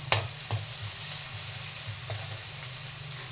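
Onions sauté and sizzle in a pan for prawn pepper masala, a steady close frying hiss with a few sharp stirring scrapes near the start and no talking.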